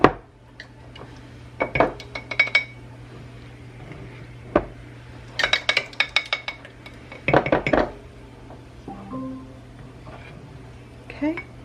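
A spoon scrapes and clinks against a bowl while homemade Greek yogurt with whey on top is stirred, giving several irregular bursts of close, bright clatter separated by quiet gaps.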